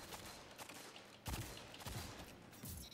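Rapid bursts of gunfire from the shooter video game Destiny 2, a quick run of sharp, dense shots with a stronger hit midway, steady and fairly close with no voices.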